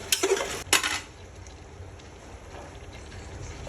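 Chicken with lemon juice is stirred and fried for dum chicken biryani, with two sharp utensil scrapes against the pan at the start and then a faint, steady sizzle.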